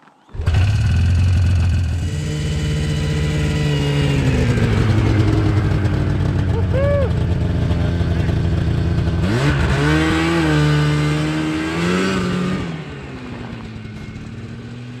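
A Yamaha Phazer 2 snowmobile engine, already warm after repairs, starts on a pull and runs loud and close, its steady drone rising and falling with several revs partway through before settling back toward idle.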